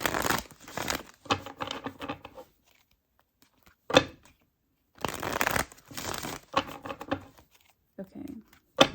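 Tarot cards being shuffled and pulled, with repeated bursts of riffling and slapping separated by short pauses, close and fairly loud.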